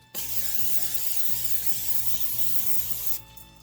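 A can of cooking oil spray hisses continuously onto a rimmed baking pan for about three seconds, close and fairly loud, then cuts off abruptly.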